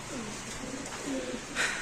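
Racer and Giribaz pigeons coo softly at a bird market, a few low rolling coos close by against faint background murmur.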